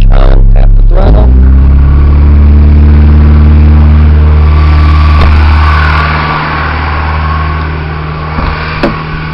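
A 1987 Shelby Z car engine roars loudly as the throttle is tapped, then settles into a steady, droning hum at close range.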